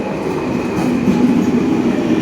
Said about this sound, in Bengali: ফাইনালি আমাদের ট্রেন ঢুকলো শিয়ালদা ট্রেন তো বনগাঁ লোকাল